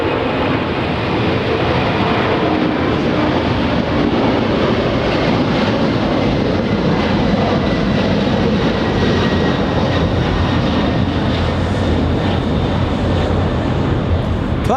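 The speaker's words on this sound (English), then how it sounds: "On the roll, racing down the runway, lifting off." Boeing 747 cargo jet taking off and climbing out of Los Angeles International Airport, a loud continuous roar of jet engines filling the whole stretch with steady broadband rumble.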